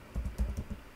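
Quick keystrokes on a computer keyboard as a terminal install command is typed, about six soft, close taps in an uneven rhythm with no voice over them.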